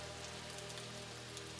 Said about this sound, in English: the silence broken only by the drumming of rain on stone